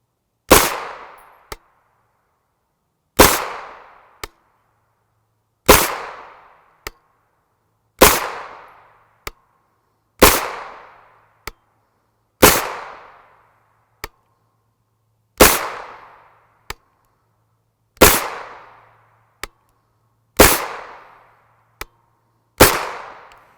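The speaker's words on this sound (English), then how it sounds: "Here is our Hirtenberger 100 grain at 25 yards using the 16" PZC and a Primary Arms first focal plane scope" Sharp single shots from a 16-inch 9mm PZC carbine firing Hirtenberger 100 grain JSP ammunition at 25 yards, ten loud evenly spaced reports, each with a short ringing decay and a faint metallic ping after it.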